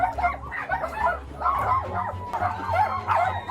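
Several dogs inside a cluttered, trash-filled hoarder's home bark and yip in a steady, fairly loud mix, with whining and whimpering cries woven between the barks.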